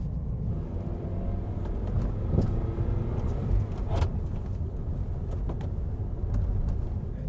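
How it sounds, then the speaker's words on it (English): A manual car pulls away and shifts into second gear. The engine holds a continuous low rumble with slight swells in loudness and no voices. "let the clutch out smoothly to make sure you have a nice smooth transition into second."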